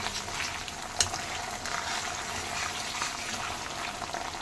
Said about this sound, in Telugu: అల్లము వెల్లుల్లి పేస్ట్ బాగా వేయించుకోండి